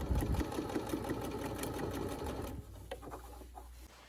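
A sewing machine stitches a French seam on a pillowcase in a steady, loud mechanical run. The run drops off after a few seconds into softer handling noises.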